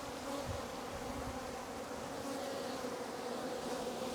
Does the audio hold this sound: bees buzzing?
yes